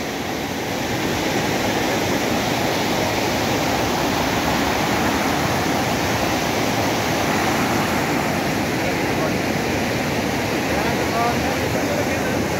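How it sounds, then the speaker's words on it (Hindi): Noori Waterfall in Gilgit-Baltistan, Pakistan, pours clear water in a steady, loud roar of broadband rushing noise heard up close, with no break throughout. "इसका शोर सुन रहे होंगे, बहुत ज़्यादा पानी का शोर।"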